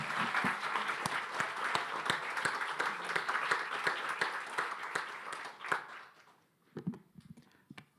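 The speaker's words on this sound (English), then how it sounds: "A really big round of applause." Audience applause at a general assembly, a dense sustained clapping from a crowd that fades out, followed by a few faint scattered sounds.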